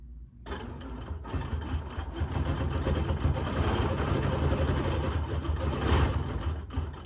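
A sewing machine runs steadily during free-motion quilting, a dense, continuous mechanical whir and rapid stitching chatter starting abruptly and holding at a close, even level throughout without speech.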